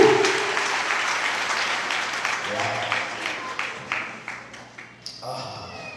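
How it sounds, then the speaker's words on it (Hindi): An audience claps at an indoor gospel church gathering, dense applause at first that thins into scattered individual claps toward the end, with a brief voice near the start. "गजब की ताली बजा दीजिए।"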